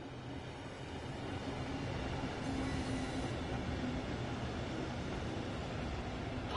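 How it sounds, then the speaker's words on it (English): A limited express train rolls in within Train Sim World 4, a steady low rumble of wheels and carriages building slightly, heard alone without talk. "特急が来ました。"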